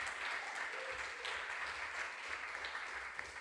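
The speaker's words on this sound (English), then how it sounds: "A round of applause for Osaberima" An audience at a junior science and maths quiz claps steadily at a moderate distance, a sustained, even patter of many hands with no voices on top.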